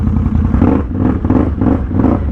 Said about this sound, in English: That RJWC exhaust sounds so good.